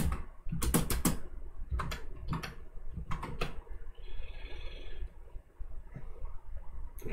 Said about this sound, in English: I'm just going to type this as a paragraph.